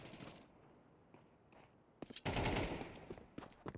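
Counter-Strike rifles fire in automatic sprays on the Anubis map. Quieter distant bursts come first, then a loud, close, sustained spray of rapid shots followed by scattered single cracks.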